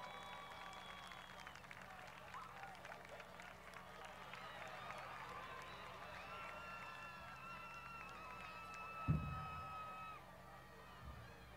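Crowd at a political rally applauding and cheering steadily throughout, with a brief louder burst near the end amid scattered shouts and general noise.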